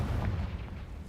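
An explosive Bombarda or Confringo spell blast goes off in the Hogwarts Legacy video game inside a cave, giving a brief, fairly faint booming burst.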